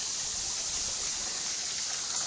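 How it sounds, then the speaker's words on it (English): A garden pond waterfall flows in a steady, close, broadband rush of splashing water, continuous and unbroken with no voices. "Here's the waterfall."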